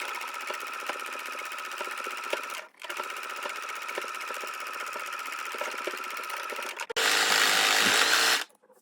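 A sewing machine stitches the side seams of a shirred spring dress, running in a fast, even whir, stopping briefly, running again, then stopping before a last harsher, louder burst; no one speaks.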